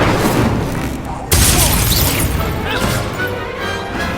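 An Incendio fire spell cast during a duel in Hogwarts Legacy bursts out loudly, a sudden whooshing blast over a dense rumble of battle effects, with a sharp onset partway through and a sustained roar afterward.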